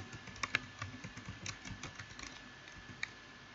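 Typing on a computer keyboard, faint scattered key clicks with a few sharper taps, quiet and irregular, with no talking.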